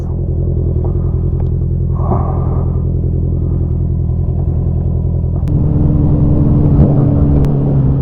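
A Honda CB650R motorcycle rumbles loudly and steadily up close as it rides off, its engine note rising and thickening in the last few seconds as it picks up speed.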